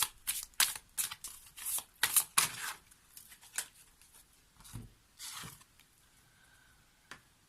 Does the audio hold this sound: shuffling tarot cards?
yes